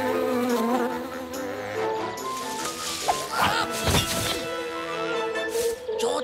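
A cartoon mosquito drones with a thin, wavering buzz that shifts in pitch, broken midway by a sharp smack and a few rustles before the whine returns.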